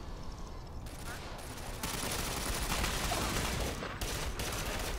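Dense, sustained gunfire from the Ghost Recon Phantoms video game, with overlapping bursts in a steady, loud wash of shooting that grows slightly stronger partway through.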